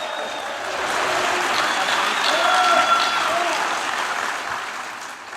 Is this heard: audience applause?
yes